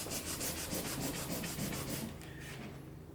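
Steady, close sanding rasps across a clear-coated painted tile surface in a continuous rubbing pattern, easing slightly softer toward the end.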